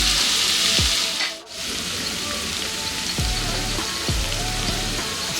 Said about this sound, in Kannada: ಇದನ್ನು ಒಂದು 5ರಿಂದ 10 ನಿಮಿಷ ಇದೇ ರೀತಿ ತರಕಾರಿಗಳನ್ನ ಎಣ್ಣೆನಲ್ಲೇ ಫ್ರೈ